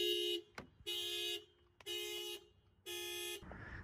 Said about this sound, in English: So of course the alarm will go off when your car is locked and the alarm is set.